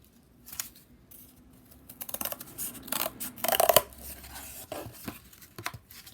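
Scissors cutting cardboard for an art project: irregular crisp snips and crunches that build into a dense run of cuts, close and fairly quiet with no talk.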